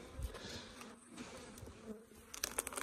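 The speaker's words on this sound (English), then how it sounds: "look at the amount of bees in this." A soft, steady buzzing of many bees close by, quiet and textured, with a few brief louder bumps and rustles.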